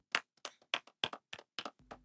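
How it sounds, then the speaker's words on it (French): Scattered claps sound in quick, uneven bursts from a small group, close and moderately loud, trailing off into a low tap at the end. "applaudissez pour lui"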